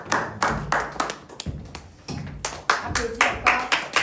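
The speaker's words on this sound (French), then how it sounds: "Est-ce qu'on peut applaudir bien aimé?" A church congregation claps in a rhythmic, even beat, loud and close, with a short pause partway through and talk mixed in among the claps.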